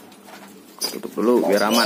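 A young spotted dove gives soft, rounded coos close by, rising toward the end, while a person speaks briefly nearby.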